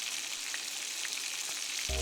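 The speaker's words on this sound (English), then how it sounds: "Listen to that sizzle." Chicken pieces sizzle steadily in a hot frying pan for a creamy fricassée stew, a dense, even crackle of frying that runs the whole way through, with a brief stir or clatter right at the end.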